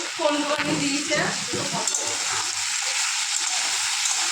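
Potatoes and peanuts frying in hot oil, a steady broad sizzle with stirring scrapes, loudest in the first seconds and holding close and even to the end, with no talk over it.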